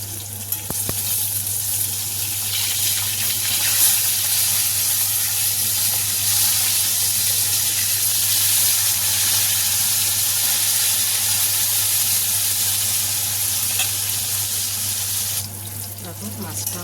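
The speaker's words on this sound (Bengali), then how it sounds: "দেখো মাছটা আমার ভাজা হয়ে গেছে।" Bhetki fish fries in hot oil in a pan, giving a loud, steady, close sizzle with a dense hiss that runs unbroken for about seventeen seconds over a low constant hum.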